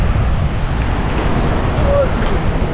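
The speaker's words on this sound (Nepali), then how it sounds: "कति शीतल हावा लाग्यो" Steady cool wind gusting across the microphone on the Kori trek near Sikles, Nepal, a constant low rumble and rush with no pauses, fairly loud throughout.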